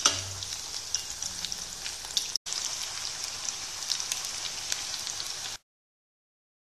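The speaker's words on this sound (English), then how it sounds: "Flip this out and deep fry both the sides" Capsicum rolls deep frying in refined oil give a steady, crackling sizzle with fine bubbling pops, close and even, with one brief break before cutting to silence.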